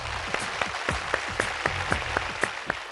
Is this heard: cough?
no